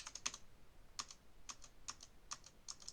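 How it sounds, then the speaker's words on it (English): Keystrokes on a computer keyboard while searching in an XML file, a quick cluster of clicks followed by single taps spaced about half a second apart, close and fairly quiet, with no voice. "So let's type in Control F."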